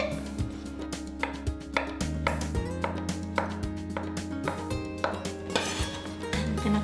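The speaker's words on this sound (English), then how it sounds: "Now I'm gonna chop it." A knife chopping avocado on a cutting board in a home kitchen: a quick, steady run of close, crisp knocks mixed with light clinks of utensils, fairly quiet with no talk.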